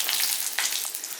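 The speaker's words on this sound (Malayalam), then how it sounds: "അപ്പൊ നമ്മൾ ആ എണ്ണയിൽ തന്നെ ഇട്ട് അതും കൂടെ ഒന്ന് വറുത്തെടുക്കാവേ." Chana dal dropped into hot cooking oil crackles and sizzles in a dense, steady hiss, close and fairly loud, with brief sharper pops breaking through.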